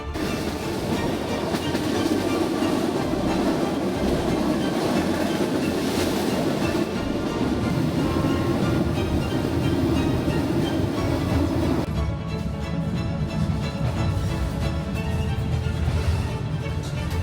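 The overnight sleeper train from Hanoi to Sapa rumbles along the rails with a constant loud roar and rattling carriage noise from inside the cabin, with no talk.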